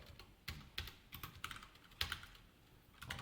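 Fingers type on a computer keyboard while coding a JSP message board, producing close, irregular bursts of crisp key clicks with brief pauses in between. No one speaks.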